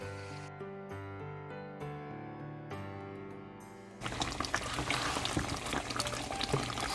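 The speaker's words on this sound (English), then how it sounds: "let this simmer for another half an hour to 45 minutes" Chili simmers in a pot with a dense, steady bubbling and sputtering that fills the last few seconds, following a stretch of soft tonal music.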